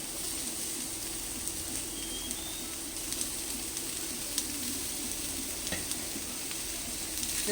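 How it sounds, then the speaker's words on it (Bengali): Chopped ginger and onion frying in oil, a steady low sizzle running throughout with faint clicks of stirring, quiet and continuous with no voices. "এই সময় আমি এখন আদা কুচিটা দিয়ে দিচ্ছি পেঁয়াজ কুচি দিয়ে দিচ্ছি"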